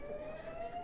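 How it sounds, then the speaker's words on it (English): An alarm siren sounds at a Houston airport, a steady high whining tone holding continuously through the moment with no talking. "what is that siren that's been going off?"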